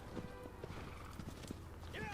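A horse's hooves clip-clop at a steady trot in the video game Shadow of the Colossus, quiet and rhythmic, with faint voices murmuring underneath.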